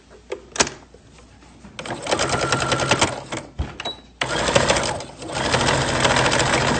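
A sewing machine stitches a fabric face mask in close, loud bursts of rapid mechanical whirring, with short pauses between runs, including a reverse pass to lock the stitch.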